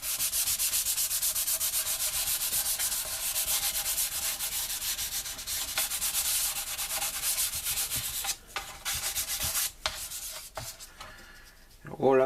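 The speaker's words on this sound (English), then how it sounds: "Just go over like that with a bit of a light sanding." Sandpaper rubs in steady, close back-and-forth strokes in a light sanding pass before primer, continuous and fairly quiet, with a few pauses and a handling knock near the end.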